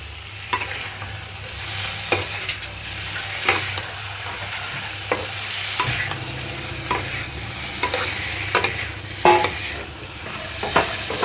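Paneer frying in a pan, with continuous sizzling and irregular scraping strokes of a spatula stirring it, close and steady with no talk.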